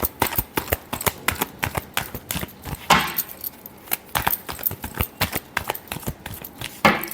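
Tarot cards being shuffled by hand, a rapid run of crisp riffling slaps and flicks in uneven bursts, close and loud with no talk over them.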